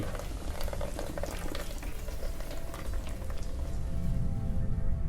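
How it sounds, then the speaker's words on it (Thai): Rain falling in the video game Cloud Climber, a steady dense hiss of drops with a low rumbling undertone, continuous and fairly loud throughout with no voices. "ฝนตก"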